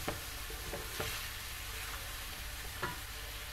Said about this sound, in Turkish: Şimdi biberlerimi kavuracağım güzelce arkadaşlar.